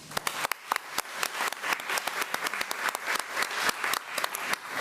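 Applause at a school board meeting, a small audience clapping unevenly with sharp individual claps, close and moderately loud, continuing steadily for several seconds.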